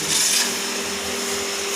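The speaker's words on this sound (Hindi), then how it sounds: "ये पंखा भी लगाया हुआ है आपने किस चीज़ के लिए?" An electric fan runs in a farm's fodder-cutting shed, giving a steady mechanical whir with a constant tonal hum, close and even throughout, with a slightly louder rush at the start.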